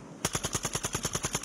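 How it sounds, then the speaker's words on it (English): Rapid automatic gunfire in the video game Call of Duty Warzone 2 rattles off about a dozen sharp, evenly spaced shots in a quick burst, loud and close, after a brief quiet start. "They're shooting at me now."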